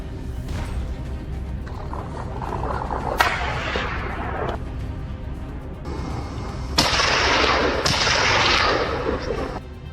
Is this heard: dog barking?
no